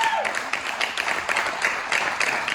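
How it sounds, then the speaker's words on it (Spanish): A church congregation claps for Jesus in a short burst of applause that starts just as a sustained voice tone fades out at the beginning, then continues at moderate loudness. "¿Cuántos le pueden dar un fuerte aplauso a ese Jesús?"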